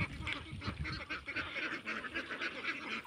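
Ducks quack and honk in a loose, overlapping chorus, a steady stream of calls nearby with no pauses.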